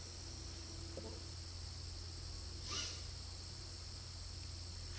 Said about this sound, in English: emotion, feeling, sensation, the cicadas, we call them cicadas, but the sound is not the word